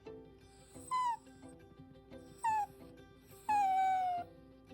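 Dogs at a paint company workplace give three drawn-out high whimpers and whines, the last one the longest, over a quiet room hum.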